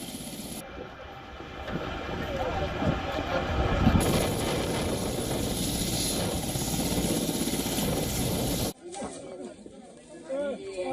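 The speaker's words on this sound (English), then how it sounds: "Other images showing a helicopter carrying casualties landing on the runway" A helicopter carrying casualties lands on a runway, its steady rotor and engine roar filling the scene before cutting abruptly to quieter sound near the end.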